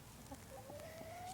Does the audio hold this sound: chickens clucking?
yes